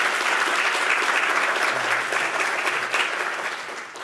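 Loud, steady applause from a sizable audience at a public service broadcasting lecture, sustained throughout and easing off slightly at the end.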